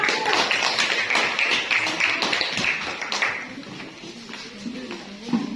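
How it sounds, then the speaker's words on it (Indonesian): A group of classroom students claps in applause for the first presenting group, a dense, busy patter of hands that is loudest at the start and thins out toward the end. "beri aplaus untuk kelompok 1"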